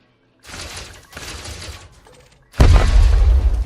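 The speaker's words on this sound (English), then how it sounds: "What an explosion." A big explosion in Elite Dangerous, set on a planetary surface where cobalt is being mined, goes off as a sudden loud, dense blast that sustains for over a second after quieter mechanical rumbling.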